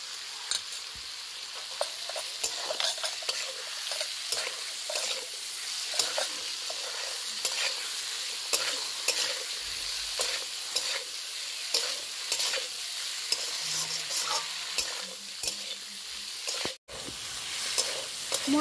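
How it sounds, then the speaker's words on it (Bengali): Ground spices with ginger, pepper and radhuni are sautéed in a pan for a tilapia fish curry, producing a steady loud sizzle with constant stirring scrapes throughout. "সব মশলাগুলো আমি একটু ভালো করে কষিয়ে নেব"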